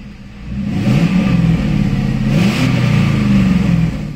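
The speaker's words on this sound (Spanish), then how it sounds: "el escape también, que hay gente que se cree que por ponerle un silencioso ya no suena" A car engine with a silencer fitted to the exhaust revs steadily, loud and close, its pitch rising and falling through several throttle blips over a low rumble.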